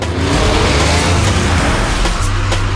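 A film car driven at high speed in reverse, one of two Buick GNX rigs with reversed bodies on the chassis, its engine droning loud and continuous with a deep rumble and a few sharp clacks near the end.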